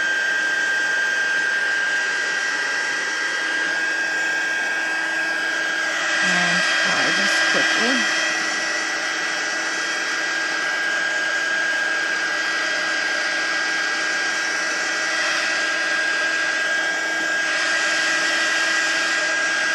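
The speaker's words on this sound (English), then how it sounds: "And now I'm going to use my heat tool." A heat tool drying watercolor paper gives a steady, loud whirring blow that runs continuously throughout, with a brief thud of handling partway through.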